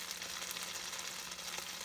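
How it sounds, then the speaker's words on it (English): Chocolate slop sizzles and burns in a hot pan, a steady crackling hiss of frying that stays even and fairly quiet throughout. "as we let that sizzle and burn"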